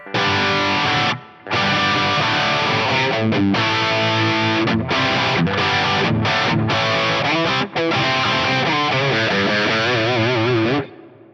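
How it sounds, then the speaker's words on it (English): A distorted electric guitar plays chords and sustained notes with a roomy reverb tail, loud and continuous apart from two brief pauses. "I quickly add a reverb block in here for a little bit of extra ambience"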